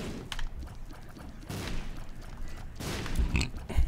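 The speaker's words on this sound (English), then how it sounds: "So, explosions no longer damage me." Bomb explosions in The Binding of Isaac, several short booming bursts in quick succession over game sounds, fairly quiet overall with a few sharp thumps near the end.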